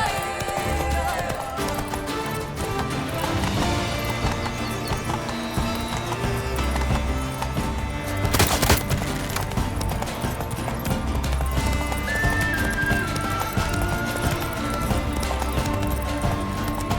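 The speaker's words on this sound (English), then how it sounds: "Run, Roach" Hoofbeats of a horse galloping in The Witcher 3, a steady rapid clip-clop running throughout against game music and ambience, with a brief whinny and a faint voice partway through.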